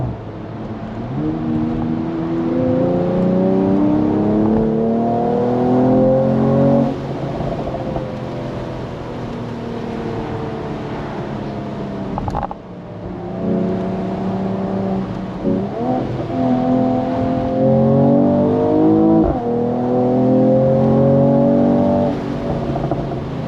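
A Mercedes-Benz E53 AMG mild-hybrid engine hums and revs steadily on a twisty road, rising and falling in pitch as it shifts through gears, with no talking.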